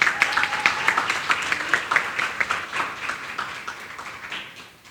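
An awards ceremony audience claps for a second-place winner in steady, moderately loud applause that tapers off over several seconds, with no voices over it.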